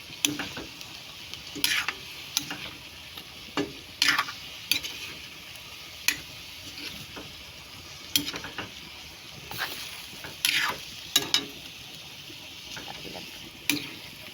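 Pork adobo with kalamansi stirred in a pan, a spoon scraping and clinking in irregular bursts over a soft background sizzle, no talking.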